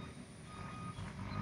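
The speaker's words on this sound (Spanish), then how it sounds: "esperemos que pase el tráfico aquí" Truck reversing beeps sound over a dull rumble of street traffic, a short stretch of steady mid-level noise at moderate distance.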